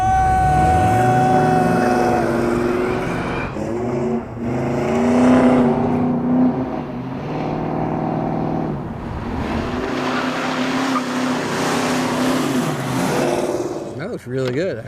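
A project car races hard around an autocross course, its engine revving up and down through repeated accelerations as it passes, loud and close, with voices talking over parts of it.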